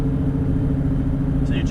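A Lamborghini moves off slowly in first gear at Grosse Ile Airport, its steady low engine rumble close and even throughout, with a person talking over it.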